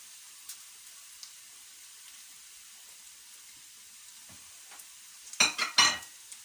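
Vegetables and beetroot frying in vegetable oil in a pan for Ukrainian borscht give a faint, thin sizzle for most of the stretch, then a short burst of louder stirring and crackling near the end.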